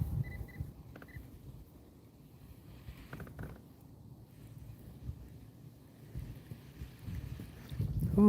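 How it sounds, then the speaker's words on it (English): Wind gusting over open water during kayak bass fishing, a low rumbling buffet on the microphone that rises and falls in waves, with a few faint knocks from the boat. "this wind is picking up"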